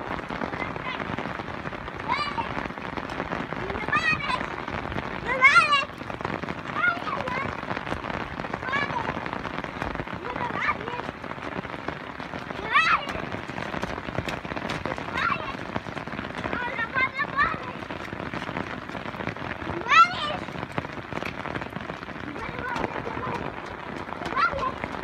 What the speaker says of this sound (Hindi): बहुत प्यारी बारिश हो रही है